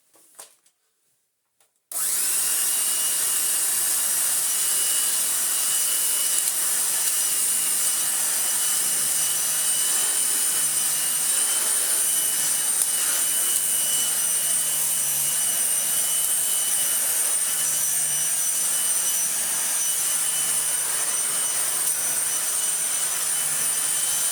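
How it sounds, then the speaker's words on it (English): A restored Dirt Devil Broomy upright vacuum cleaner switches on after a brief clatter and then runs with a steady, loud, high-pitched motor whine and airflow rush that continues unbroken, with no talking. "It's an upstairs vacuum cleaner."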